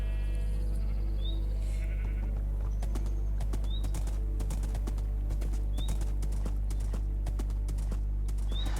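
Sheep in a pen in a video game bleat amid steady clip-clop hoofbeats and a constant low hum, with soft repeated chirps recurring every couple of seconds and no talking.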